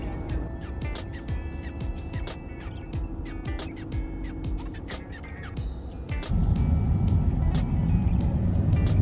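Interior of a car driving on the road, a steady engine and road rumble throughout with scattered clicks and knocks, growing louder and heavier in the last few seconds.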